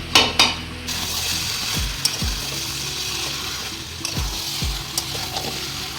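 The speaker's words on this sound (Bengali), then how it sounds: "মশলার সঙ্গে খুব ভালো করে আমি মাংসটা কষিয়ে" Mutton stirred and fried with spices in a pan for a potato mutton curry: steady sizzle throughout, with a spatula scraping and knocking against the pan several times, close and fairly loud.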